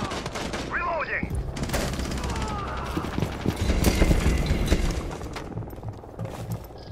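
Gunfire in the Rainbow Six Siege video game, with bursts of rapid automatic shots and single cracks among clattering mechanisms, loud and close, while players talk over it.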